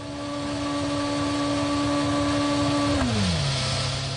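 A 2008 Formula 1 car, Kovalainen's McLaren or Piquet's Renault, screams past at high revs, its steady engine whine dropping sharply in pitch as it goes by.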